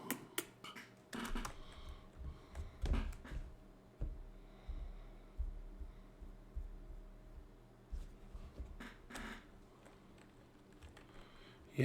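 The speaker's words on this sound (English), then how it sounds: "little kitty cat stomping on your keyboard" A cat walking across a computer keyboard, producing scattered, irregular clusters of soft key clicks and thumps, quiet and close, with gaps between the presses.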